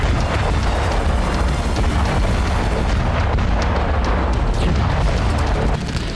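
Explosions at a Russian oil depot in Voronezh, a dense, continuous rumbling blast roar that stays loud and unbroken throughout, with no voices.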